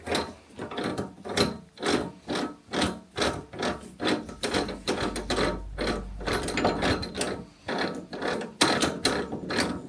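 Vevor lathe running close by, giving a fast, even train of mechanical clacks and rattles with a low hum under them partway through, and no talking.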